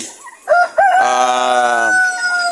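A rooster crows loudly and close among farm chickens, a long harmonic cock-a-doodle-doo preceded by a couple of short clucking calls, ending in a ragged tail.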